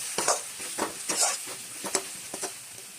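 Masala with coriander powder and salt is stirred in a pan, giving five or six rhythmic scraping strokes over a soft background sizzle, close and moderately loud.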